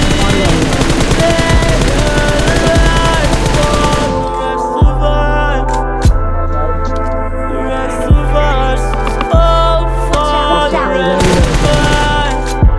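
PUBG Mobile gunfire rings out over a loud music track: rapid bursts of automatic shots in the opening seconds, then sparse single booming shots at regular intervals beneath the booming beat.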